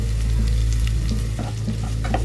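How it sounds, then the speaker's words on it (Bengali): Chopped onions with bay leaf frying in hot mustard oil in a kadai, a steady close sizzle with soft stirring scrapes toward the end. "আর তারপরে কুচি করে কেটে রাখা পেঁয়াজ বেশ খানিকটা ভাজতে শুরু করুন"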